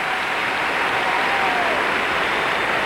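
A packed arena audience applauds after a women's short program at the 1997 World Figure Skating Championships in Lausanne: dense, steady, loud clapping that holds evenly throughout without pause.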